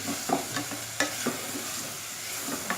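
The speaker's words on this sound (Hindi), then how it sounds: "लहसुन अदरक के साथ इसको 2 मिनट फ्राई कर लेंगे।" Garlic and ginger fry in hot oil in a pan with a steady soft sizzle, broken by several sharp scraping clicks of a spoon stirring them, close and alone without talk.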